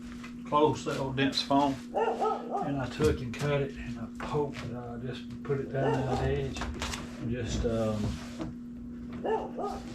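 A dog barks and yips intermittently in the background while someone talks steadily through most of the stretch, over a constant low electrical hum.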